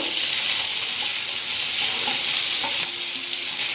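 Continental egg omelette mixture being stirred as it fries in a pan, with a steady, close sizzle and scraping stir sounds throughout and no talking.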